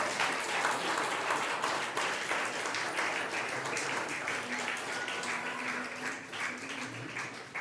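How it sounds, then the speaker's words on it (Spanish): Church congregation applauding together, a dense steady wash of many hands clapping that holds for several seconds with no clear speech on top. "Usted le puede dar un aplauso al Señor, ¿verdad?"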